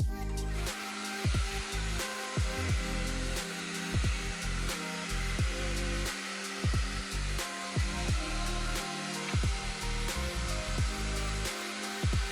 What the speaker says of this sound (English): Took the hair dryer